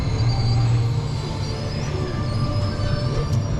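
A small spinning coaster at the Freizeit-Land Geiselwind amusement park rumbles steadily along its track, a continuous loud mechanical roar with rail clatter and a faint high squeal near the end, no voices.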